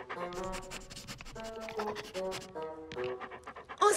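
A cartoon dog in the animated Strawberry Shortcake series pants in quick, breathy, voiced bursts, a voice actor imitating the panting, with a scratchy sound near the end.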